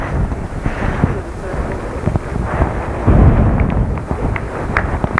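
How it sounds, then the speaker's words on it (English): Wind buffets the microphone at an outdoor road race, a rough, gusty rumble that swells and fades, louder near the end, with someone talking over it. "it's turning a little breezy now."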